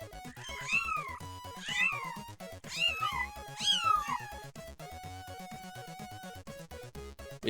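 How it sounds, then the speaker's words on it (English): Several house cats meow in a string of clear, close calls, four or five distinct rising-and-falling meows in the first few seconds, then quieter sustained tones. "First, we look at the kitty cats."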